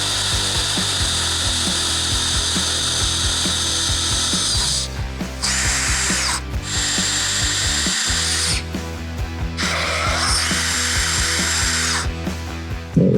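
A power drill whines steadily in bursts, revving and biting as it bores holes in a Harley Road Glide headlight trim bezel, with short pauses between runs; close and loud, no talking.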